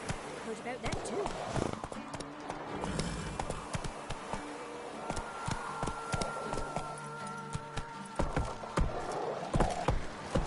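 Roach the horse gallops in The Witcher 3: Wild Hunt, a steady run of hoof impacts with sharp louder strikes throughout, faint and under a man's occasional speech.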